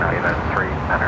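Boeing 787 Dreamliner jet at LAX, arriving from Tokyo Haneda, with a steady broadband roar held under continuous nearby talking.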